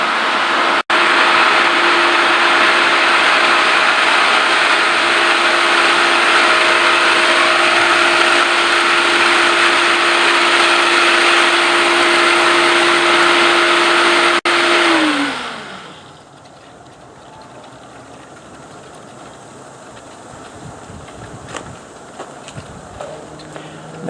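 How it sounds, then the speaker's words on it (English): A water pump running at 750 RPM with a leaking pump seal gives a loud steady whine and hum, then winds down and stops about fifteen seconds in, leaving quiet background. "The pump's running at 750 RPM."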